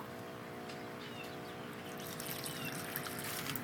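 Water poured onto a dry basil plant in an aquaponics/hydroponics setup, a faint steady trickle over a low hum that grows slightly louder toward the end.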